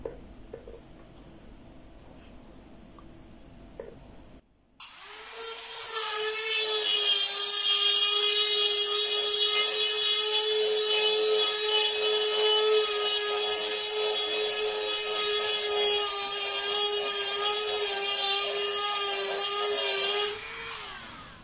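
A drill bores steadily into stone, a loud continuous high whine with a grinding edge that holds for about fifteen seconds after a brief quieter stretch at the start.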